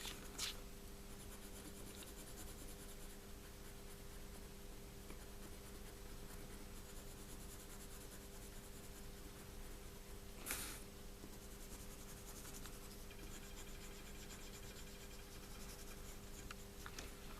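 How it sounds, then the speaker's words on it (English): Coloured pencil being rubbed across paper to shade in an isometric dot-grid drawing, a faint continuous scratchy scribble with two brief sharper strokes, close and alone with no talk. "I've just coloured them in using a colouring pencil."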